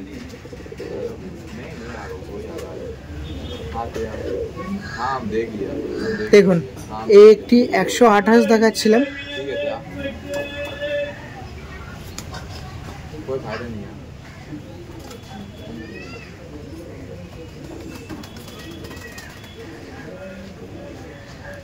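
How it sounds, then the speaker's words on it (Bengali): A Pakistani bloodline pair of pigeons coos at close range, soft repeated coos that swell briefly midway, while someone talks over them for much of the time. "এই একটি পাকিস্তানি ব্লাড লাইনের এই একটি পেয়ার দেখায়"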